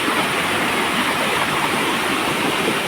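Loud, constant rush of fast-flowing stream water, close by and unbroken, with no voices.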